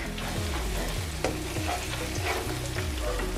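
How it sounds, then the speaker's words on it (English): Seafood stir frying in a pan for fish jollof rice, a steady loud sizzle with repeated scraping stirs at a regular pace, no voices. "just stir fry it for a bit"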